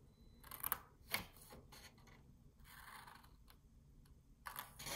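Scissors cutting paper along a line for an A2 envelope, several faint crisp snips and slicing rasps spaced irregularly, quiet and close with no talk.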